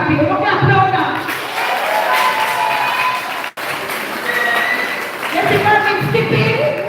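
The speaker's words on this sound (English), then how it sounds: "We're going to applaud that." An audience at a primary school graduation applauds and cheers for a top-scoring pupil, steady crowd clapping mixed with voices and chatter, with a brief drop in sound partway through.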